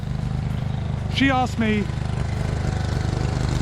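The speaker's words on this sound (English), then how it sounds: "Let me just wait for the lawnmower to pass." A lawnmower hums steadily nearby as it passes, its low engine drone continuous throughout while someone talks briefly over it.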